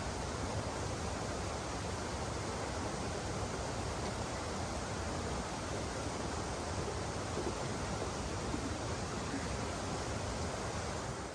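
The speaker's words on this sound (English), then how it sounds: "we've got a noisy creek down there" Noisy mountain creek in Kootenay National Park, flowing below with a dense, constant rush of water that fills the whole scene, steady and unbroken, with no voices over it.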